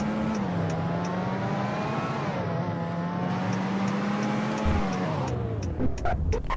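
A Mazda RX8 fitted with drift tires accelerates hard, its engine droning steadily and rising in pitch as the revs climb, loud and close with no talk over it.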